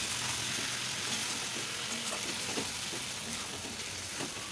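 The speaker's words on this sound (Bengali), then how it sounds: "তো হাই ফ্লেমে আমি আবার চিকেনটাকে ভালোভাবে মেখে নিয়েছি।" Chicken fries on high flame after being mixed with powdered garam masala of cardamom, cinnamon and clove, making a dense, constant sizzle with faint stirring underneath.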